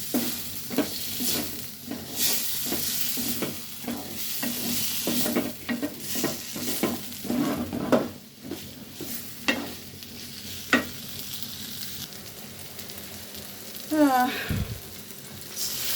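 Whole spices and masala sautéing in a pan for chickpea dal, with a steady sizzle broken by repeated stirring scrapes in an uneven rhythm, close and fairly loud, ending in a brief clatter.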